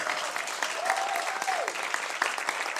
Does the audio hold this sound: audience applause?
yes